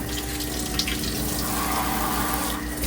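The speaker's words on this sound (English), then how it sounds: "Water's coming out." Water runs steadily from a tap at a tortoise enclosure, a continuous close splashing hiss with no talk over it.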